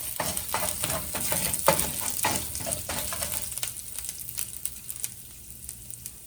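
Lentils and ginger frying in a pan for spicy dumplings, a crackling sizzle punctuated by a rapid series of scraping stirring strokes early on, then settling into a softer, steadier frying hiss with no talk.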